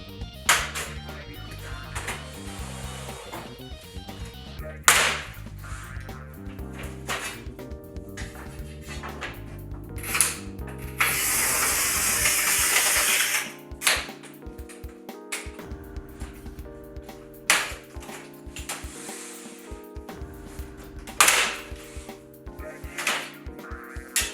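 A Rubi manual tile cutter scores and snaps porcelain stoneware slab into strips of equal size, one after another: repeated sharp clicks and knocks, scraping strokes and a brief harsh grinding burst midway.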